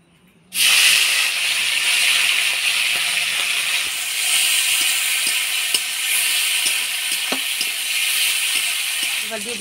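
Prawns hit a hot wok with an abrupt, loud sizzle that continues as a steady frying hiss, with faint occasional stirring clicks.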